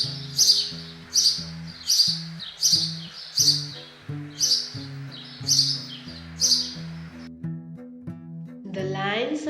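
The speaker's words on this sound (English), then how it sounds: "The sparrow sounds as chirp, chirp, chirp." Sparrow chirping in a steady series of about nine bright, evenly spaced calls, close and clear, over a soft low musical backing, ending with a brief rising sweep.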